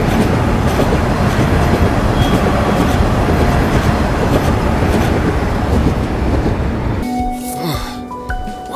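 Train wheels rumble and clatter steadily on the rails in an anime horror video game, a loud continuous roll that cuts off near the end into quieter ringing tones and faint effects.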